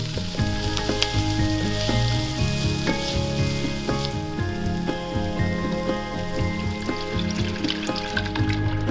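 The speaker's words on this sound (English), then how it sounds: "Now I'm gonna add in my garlic. I have 6 cloves minced. We're just gonna saute this for another minute" Six cloves of minced garlic saute in a hot pan, a steady close sizzle that runs unbroken throughout, mixed with background music.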